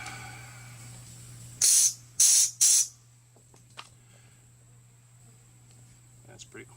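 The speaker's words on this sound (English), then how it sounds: "I'm going to put a little bit of stuff here, squirt it in there" Cleaner is sprayed into a carburetor from a utility vehicle during a rebuild, sounding as three sharp, loud aerosol hisses in quick succession, followed by faint clicks and handling noises in a quiet space.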